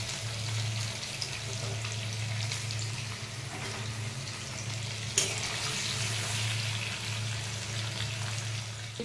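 Paneer cubes shallow-frying in oil for shahi paneer bubble and crackle steadily at close range, with a low hum underneath and one sharp clink partway through.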